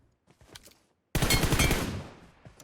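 Sustained burst of automatic gunfire from a PUBG Mobile match, loud and close, starting abruptly after a quiet stretch of faint game sounds and rattling on for over a second before tapering off.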